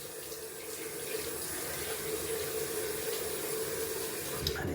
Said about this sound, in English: Gonna add cold water to the face.